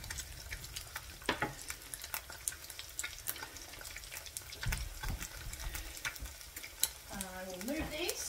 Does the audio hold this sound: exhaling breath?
no